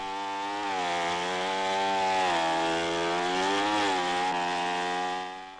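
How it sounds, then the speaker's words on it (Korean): A chainsaw cuts into a thick tree trunk near a hillside village in a tropical setting. The engine gives a steady, loud, continuous snarl that wavers slightly in pitch as the blade bites, and no voices are heard. "일꾼들이 전기톱으로 나무 기둥을 자르고 있다"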